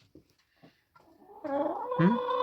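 Hens being fed in a backyard coop cluck and cackle close by, a few faint scattered notes at first, then a louder, rising run of squawking calls near the end.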